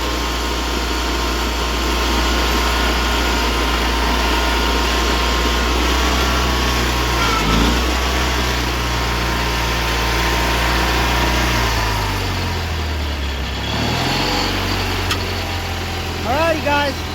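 A small Allis Chalmers 917 hydrostatic garden tractor engine runs steadily and close by, its pitch shifting and dipping briefly a couple of times, with people talking and calling out over it.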